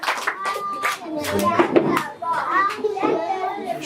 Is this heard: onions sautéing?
no